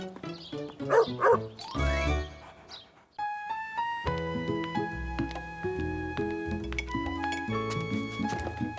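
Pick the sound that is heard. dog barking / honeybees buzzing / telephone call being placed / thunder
dog barking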